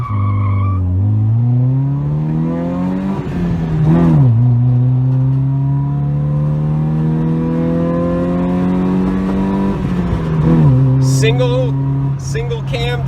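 A naturally aspirated Honda Civic revs hard through a first-gear pull, its engine note climbing loud and close with a brief dip at the shift points and people talking over it.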